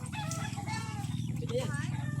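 Chickens clucking and a rooster calling, moderately loud over a constant low rumble and voices talking in the background.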